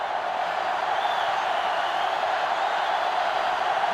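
A stadium crowd in an NCAA Football 2005 video game, a dense, steady roar of many voices that holds loud and unbroken with no distinct cheers standing out.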